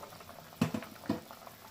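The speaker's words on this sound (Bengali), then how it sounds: "তো দেখুন বন্ধু, আমার ঝোলটা ফুটছে।" Curry gravy for masoor dal fritters bubbles in a pot, a few distinct pops and blurps rising over a quiet simmer, close and soft.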